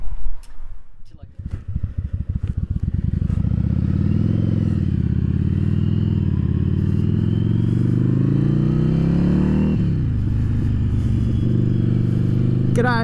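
A Yamaha Virago XV750 motorcycle with a K&N pod filter fires up with rapid popping, then settles into a loud, steady engine drone as it rides along the road, with a slight change in pitch near the end.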